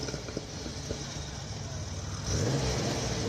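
A classic car with a manual gearbox sits at a low engine burble at a Cape Town hillclimb, then the revs rise sharply as it pulls away, its engine note climbing with the acceleration.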